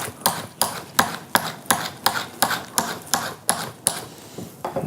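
A steel burnisher is drawn along the edge of a card scraper to roll a burr, producing about a dozen sharp, evenly spaced scraping strokes, close and fairly loud, with no talk.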